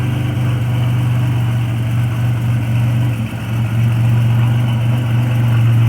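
A 1987 Buick Regal T engine idles steadily and loudly at close range, a constant low rumble with one brief dip partway through and no talking.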